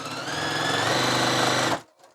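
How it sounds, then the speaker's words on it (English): A sewing machine stitches down fabric for a quilt seam at a quarter-inch line, running loud and steady with a close, rapid mechanical whir that stops abruptly near the end, followed by a faint clack. "Sew down it."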